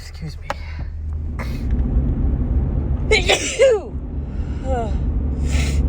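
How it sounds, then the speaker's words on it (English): A woman's sneeze, one sharp close burst midway through, set against a steady low vehicle rumble with breathy gasps and voiced exclamations around it. "Oh, that was a huge sneeze."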